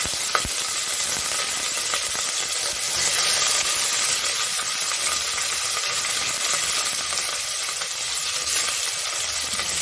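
Onions and curry leaves sauté in oil for a mutton kuzhambu, giving a steady, fairly loud sizzle that holds evenly throughout with no talking.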